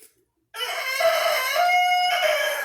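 A rooster crows once, loud and close, a long drawn-out call after a brief silence.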